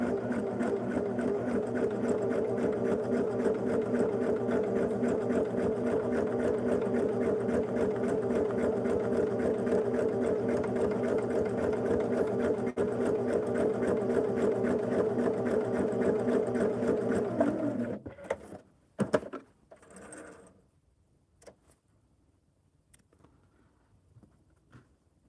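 A sewing machine stitches steadily with a fast, even mechanical whir for most of the clip, then stops, leaving a few handling clicks and near silence.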